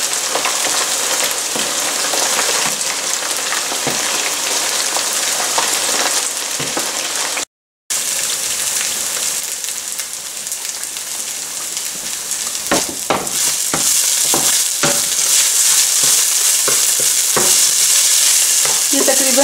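Chicken pieces fry in a pan with oil, giving a steady, close sizzle and crackle, a brief break partway through, then sharper spattering pops and scraping as the browned pieces are moved around.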